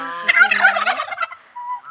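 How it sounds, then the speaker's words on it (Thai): A turkey in a home garden gives one close, loud gobble, a fast warbling burst lasting about a second, followed by a quieter trailing call. "แล้วก็ไก่งวงค่ะ"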